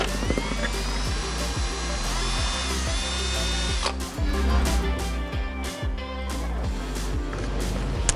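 Power drill driving screws into a wooden spice rack, its motor whirring loud and close in repeated bursts that rise and fall in pitch as each screw is run in, with no talking.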